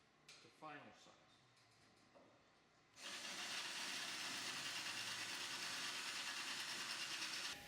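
A steel engine mount for a Continental O-200 aircraft engine being drilled out to final size, a steady loud whining drill with hiss running continuously after a quieter stretch of faint handling sounds and brief voice.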